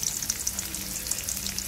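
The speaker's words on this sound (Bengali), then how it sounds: "দেখি পটল অর্ধেক ভাজা হয়ে গেছে" Pointed gourd slices fry in hot oil in a pan, giving a steady, close crackling sizzle with small spitting pops throughout.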